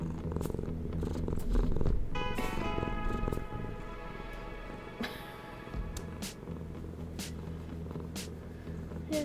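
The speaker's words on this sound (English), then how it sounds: "She purring." A female cat purring steadily up close, a continuous low rumbling purr that runs throughout with a few faint squeaks and rustles, no talk.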